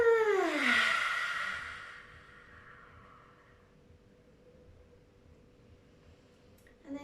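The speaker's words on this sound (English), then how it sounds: "Big breath in." A single big breath drawn in and then let out audibly through the mouth, a loud breathy sigh in the opening two seconds that fades into quiet stillness, with a faint shuffle near the end.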